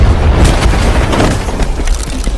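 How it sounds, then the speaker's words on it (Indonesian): A deep, rumbling boom fills the clip, a sustained blast with a dense low-end roar and crackling debris throughout, loud and close. "ketika matahari mulai terbit, kelinci itu pun lalu meledak"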